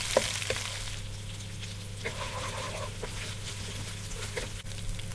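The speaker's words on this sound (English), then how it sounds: "what you want to add is the green chilies. And then give it a nice stir." Green chilies fry with a steady, close sizzle in a pan, broken by a few stirring scrapes and taps, with no talking.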